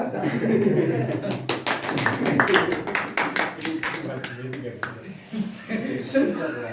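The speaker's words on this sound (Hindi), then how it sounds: "ताली मार दीजिए" A small group clapping during a current-affairs class, irregular bursts of hand claps mixed with chatter and a bit of laughter, fairly close and uneven rather than a full ovation.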